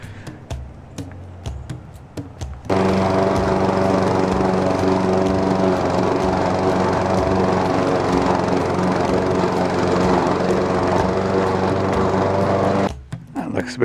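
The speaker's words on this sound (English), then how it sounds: "Oh, back to mowing." A lawn mower cuts through overgrown, foot-high grass in a horse field, its engine starting abruptly and droning loud and steady for about ten seconds before stopping, with quieter clicks and faint sounds before it starts.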